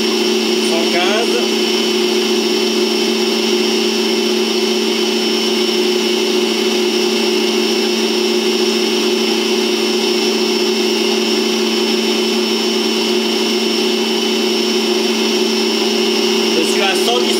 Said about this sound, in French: Je vais pouvoir commencer à allumer mon batteur. On y va, vitesse rapide.